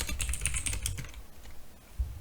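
Fingers tap out a short burst of keystrokes on a computer keyboard, quick close clicks that thin out into a few scattered taps and one final thump.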